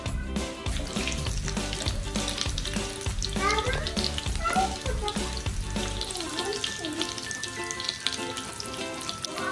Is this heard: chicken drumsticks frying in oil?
yes